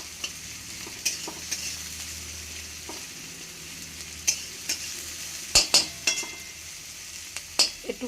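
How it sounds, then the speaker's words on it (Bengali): Chopped garlic and onion frying in a pan while making soybean paratha, a steady soft sizzle broken by several sharp scraping stirs and clinks, close and without talk. "এই রসুন কুচিটা পেঁয়াজ কুচনোটা একটু ভাজা ভাজা করে নেবো"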